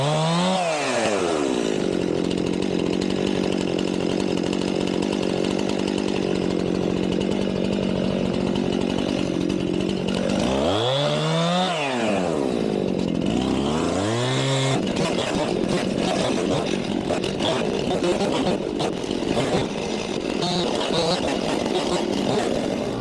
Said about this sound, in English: let's see how many boards we can get out of this with the Alaska Chainsaw Mill